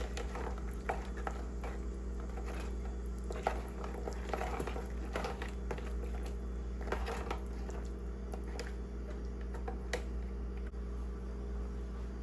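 A spoon stirs a rice pudding mixture to dissolve sweetener, giving soft, continuous scraping and wet patter close by over a steady low hum, with no talk.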